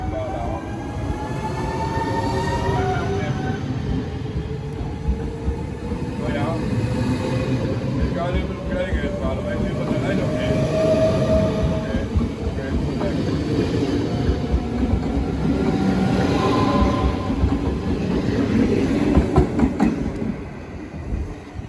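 A VIRMm1 double-deck electric train pulling out of Echt station in the Netherlands, a steady rumble and rising motor whine with faint rail clatter and a brief squeal, heard from the platform nearby.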